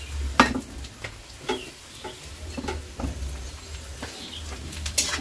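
Carrots are stirred with boiled chow mein in a hot pan, a soft sizzle under repeated scraping and clinking of a utensil against the metal, close and uneven in rhythm.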